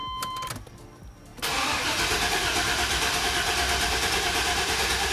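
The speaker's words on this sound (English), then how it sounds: "the next thing we wanna do is crank the engine over, and we're just gonna do this 3 or 4 times" A Chevy 350 small-block V8 in a 1994 Blazer cranks over steadily on the starter during a compression test, a loud continuous churning that starts suddenly after a short quieter lead-in and carries on alone.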